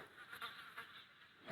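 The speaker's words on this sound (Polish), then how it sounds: "mucha tu lata." Housefly buzzing through a video game scene, a continuous faint whine that swells and fades as it circles close, with no talk over it.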